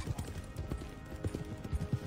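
Horse hooves clip-clopping in Red Dead Redemption 2, a steady trotting rhythm of soft, hollow thuds, moderately near and fairly quiet, with a faint voice briefly in the background.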